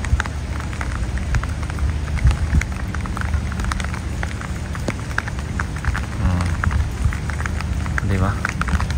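Rain falls steadily in a constant broadband hiss with scattered drops, with faint voices underneath throughout.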